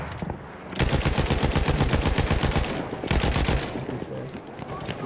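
Gunfire in a Battlefield video game match: rapid automatic bursts, loud and close, in two sustained strings separated by a short pause.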